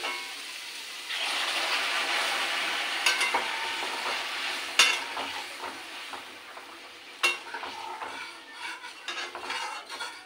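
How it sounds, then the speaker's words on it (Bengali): Hot water poured into a hot pan for a taro and shrimp curry, a loud rushing sizzle that fades into bubbling, with scattered sharp clinks of a spoon against the pan. "এবার আমি এর থেকে জলটা ঢেলে দিচ্ছি।"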